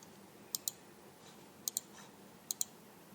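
Computer mouse clicking in three quick double clicks spaced about a second apart, crisp and close against a quiet background.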